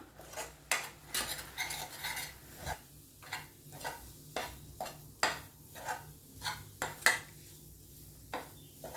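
A spoon stirs powder and grated coconut in a pan for a quick sweet snack of flattened rice and peanuts. Crisp metal clinks and scrapes repeat in an uneven rhythm, close by, over a quiet background with no voices.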